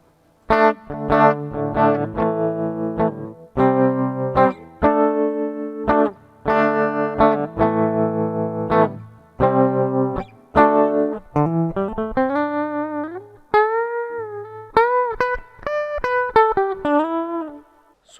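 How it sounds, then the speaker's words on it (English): Electric guitar with a pulsing tremolo effect, played through a budget Asmuse wireless system, chords and single notes in choppy rhythmic bursts, then a wavering melodic line with bends. "now we're going to switch it over to the tremolo sound and see how that sounds"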